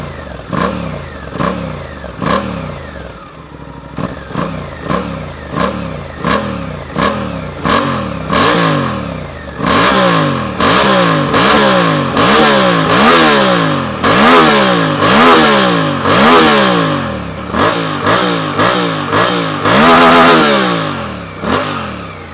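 A Suzuki V-Strom 800RE parallel twin motorcycle engine with a 270-degree crank revs repeatedly up close, rising and falling in quick rhythmic bursts, then holds higher, louder revs.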